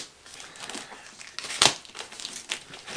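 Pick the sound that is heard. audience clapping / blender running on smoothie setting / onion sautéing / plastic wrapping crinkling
plastic wrapping crinkling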